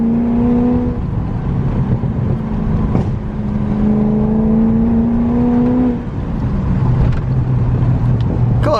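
A BMW E34 540i driving along, its engine note climbing steadily through the gears with a short dip in between, loud and close from inside the car.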